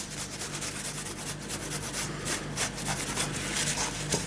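A damp paper towel rubbed over the frames of a Knightwing model signal box, a close, continuous scratchy scrubbing with quick back-and-forth strokes, alone without talk.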